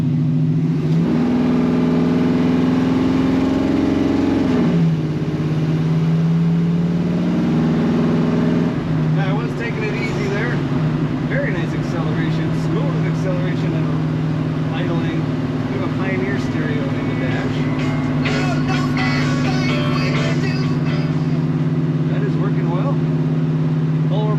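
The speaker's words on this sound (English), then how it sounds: "Great sound coming out the back. She's got a good rumble to it." A 1969 Chevrolet C10 pickup truck idles with a steady, deep exhaust rumble. Mid-clip the revs dip and settle, and someone talks over the engine throughout.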